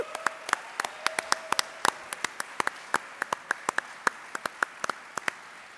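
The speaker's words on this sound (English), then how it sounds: "Please join me in a round of applause for tonight's dinner host, the Boeing Company." Scattered claps from a dinner audience at the 2015 GMiS Salute to National Defense awards event, sparse and irregular individual hand claps over a quiet room hum, with no talking.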